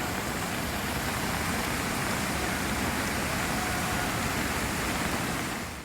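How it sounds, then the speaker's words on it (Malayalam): Heavy, unbroken rain pouring down around Thodupuzha in the Idukki lowlands, a dense steady hiss of close, constant loudness with no pauses and no voices. "തൊടുപുഴയിലും പരിസര പ്രദേശത്തും മണിക്കൂറുകൾ തോരാതെ മഴ നിന്നു"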